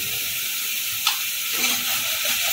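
Mustard paste with cumin powder frying in a pan for a bitter gourd dish gives a steady close sizzle, with one brief clink of a utensil and some soft stirring, and no one speaking.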